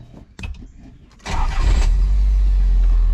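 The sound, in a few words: Nissan 300ZX engine starting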